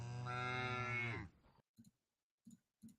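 A cow mooing sound effect plays as one long, loud, drawn-out moo lasting over a second, followed by a few faint, brief knocks in near silence.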